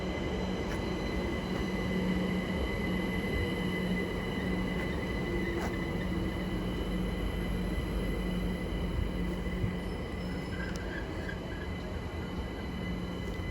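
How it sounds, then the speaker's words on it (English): A London Overground Class 378 electric train pulls into New Cross station with a loud, sustained rumble of wheels on rails, faint squeals and a steady motor hum. "incoming now will be a terminating London Overground service from Dalston Junction in the form of 378"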